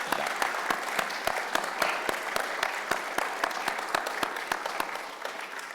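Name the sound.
audience applause for guests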